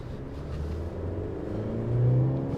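A 2022 Mercedes C300 4Matic rolls along the road, heard as a steady low engine and road rumble from inside the cabin that swells slightly toward the end.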